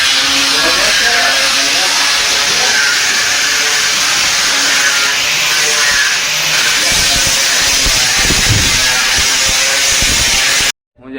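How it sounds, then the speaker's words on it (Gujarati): Power sanding of FRP fiberglass on a workshop job, a steady loud hissing grind running continuously with occasional rougher bursts, cutting off abruptly near the end; a voice talks faintly underneath. "હુસેનભાઈ ઘસાનું ચાલુ કરી દઈએ છે"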